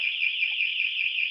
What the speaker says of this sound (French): là c'est notre alarme